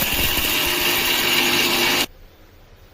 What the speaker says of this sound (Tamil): இப்போ இதெல்லாம் தண்ணி வச்சு நைஸாக அரைச்சிட்டு வந்துடலாம்.